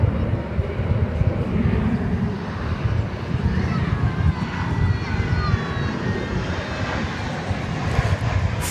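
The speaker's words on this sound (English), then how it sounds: "From beautiful downtown Burbank comes Flight 1208, American Airlines. 737-800." An American Airlines Boeing 737-800 jet on Flight 1208 from Burbank roars steadily and loudly past an airport, a broad, continuous engine rumble with a faint whine sweeping through it, no voices over it.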